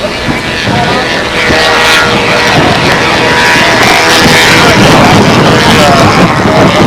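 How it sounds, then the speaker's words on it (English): A scale Super Sabre model jet flies by at an RC scale competition on a windy day, a loud continuous roar with strong wind buffeting throughout. "And the aircraft flies by."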